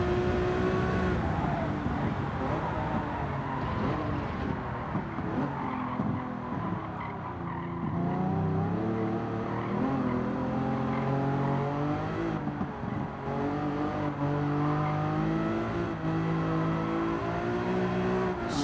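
A race car in Gran Turismo 7 lapping a circuit, its engine droning and shifting in pitch continuously while tires squeal and skid through corners, loud and unbroken with no talking.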